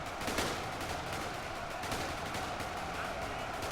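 Continuous dense gunfire from soldiers in an Ultimate Epic Battle Simulator World War II battle against zombies forms a steady, crackling wall of shots in the mid-distance, with a voice faintly underneath.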